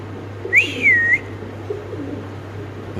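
A Spanish pigeon calls once on a pigeon farm: a single clear, close whistling coo that rises then slides and holds for about half a second, over a low steady hum.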